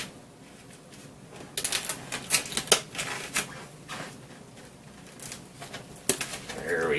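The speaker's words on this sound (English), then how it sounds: "run a knife through the cellophane here" A kitchen knife slices through cellophane wrapping on a slab of steelhead or salmon, giving quiet crinkling and sharp tearing crackles in short bursts, close by over a faint room background.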